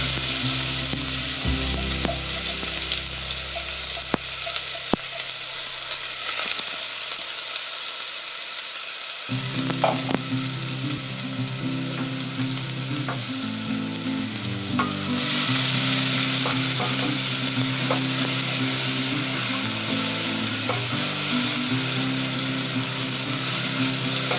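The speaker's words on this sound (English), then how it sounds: "Once the oil is heated, add the green chilies, cumin seeds, and the onion and garlic paste." Onion and garlic paste, green chilies and cumin seeds frying in hot oil, a loud dense sizzle running throughout over a constant droning hum, growing hotter and brighter in the final stretch.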